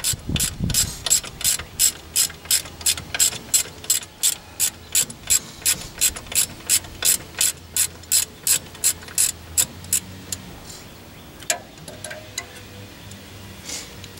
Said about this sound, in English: let me get a wrench and or a socket